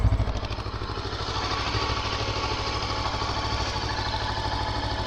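A Macbor XR5 510 motorcycle engine idles up close with a soft, even, rapid thumping pulse that stays smooth and steady throughout, with no voices over it.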